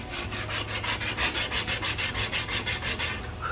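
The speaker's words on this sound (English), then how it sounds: "sometimes sanding block with a really rough grit sandpaper on there, that'll do the trick too" Rhythmic back-and-forth rasping of a coarse-grit sandpaper block on wood, fitting a mortise and tenon joint, about fifteen even strokes close up, with no voices.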